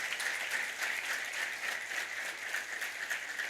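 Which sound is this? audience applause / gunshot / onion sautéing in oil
audience applause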